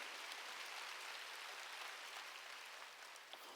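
Steady applause from a large church congregation during a worship service, a dense even wash of clapping that holds at a constant level throughout without any voices rising above it.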